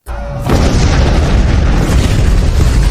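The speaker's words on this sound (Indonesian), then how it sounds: "bomnya keburu meledak" A loud, close explosion erupts with a deep booming blast, followed by a sustained rumbling roar that fills the space.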